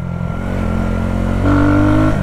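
A Shineray Worker Cross 150 motorcycle engine roars steadily while riding, loud and close, its pitch stepping up partway through as it revs higher.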